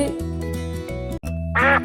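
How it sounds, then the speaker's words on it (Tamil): Cartoon-style duck quacks ring out over a children's song about a little duck, with a bright burst of quacking near the end standing out above the steady music. "குவா குவா வாத்து"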